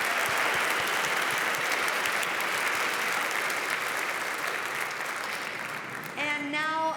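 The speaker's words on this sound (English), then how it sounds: "Let's give them a round of applause yet again." Steady, dense applause from a large concert audience at a music festival fills the space for several seconds, fading slightly before a voice begins speaking at the end.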